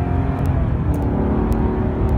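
A 2005 Maserati Quattroporte Executive GT's engine hums steadily while driving, heard from inside the cabin as a continuous low, rumbling drone with no talking over it.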